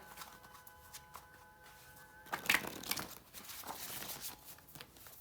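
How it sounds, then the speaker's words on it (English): Thin homemade paper cards being shuffled, with a quiet stretch and faint hum before a burst of crisp riffling and rustling takes over for the last few seconds, close and moderately loud. "They're just so thin and they're really hard to shuffle"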